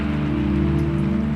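Steady rain falling on a temple, a dense even hiss of drops on hard surfaces with a low constant rumble underneath, continuous and unchanging throughout.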